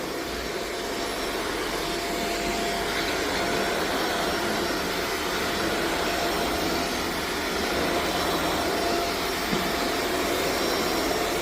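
A vacuum cleaner runs steadily in a newly built retail store, a loud, close, unbroken motor whine and airflow roar that holds an even level throughout.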